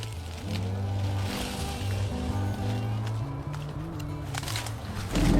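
A boat's low engine drones steadily, shifting in pitch as it runs, with water sloshing around it and a louder rumble near the end.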